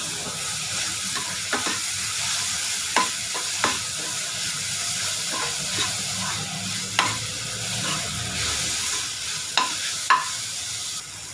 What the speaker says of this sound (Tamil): ஒரு பச்சை மிளகா ஒரு தக்காளி கட் பண்ணி வச்சுருக்கேன் அதுவும் போட்டுக்கிறேன் இதையும் நம்ம நல்லா வதக்கலாம்